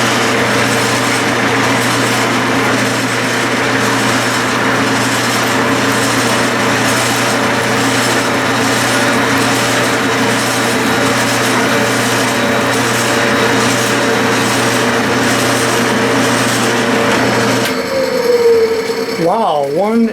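A tapered 1/2-13 tap cuts thread, a steady droning machine hum running with a low tone for about seventeen seconds, then stopping into brief rising squeals and rattles.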